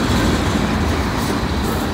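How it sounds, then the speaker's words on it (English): A stalled freight train is shoved uphill by several extra locomotives, giving a loud, close, continuous rumble and grinding roar with no pauses or voices. "This train stalled out and they had to put extra power on it."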